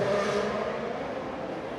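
F1 race cars on the final lap in the F1 Clash game give a steady, loud engine drone with a slight rising whine, continuous and unbroken.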